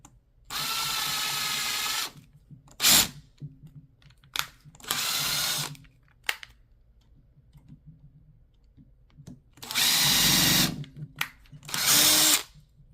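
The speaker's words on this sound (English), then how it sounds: "to put my pilot holes in. So I can put my screws in." A power drill bores pilot holes for screws while an IKEA NORDEN gateleg table is modified, running in several loud, close bursts of a few seconds each with short quiet gaps and small clicks between them.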